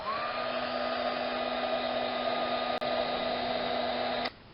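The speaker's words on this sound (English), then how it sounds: "I'm bringing in my heat tool, and I'm just going to go ahead and heat set this." Electric heat tool heat-setting embossing powder on a stamped card: a steady, close whirring fan blow with a constant tonal hum, running several seconds before cutting off.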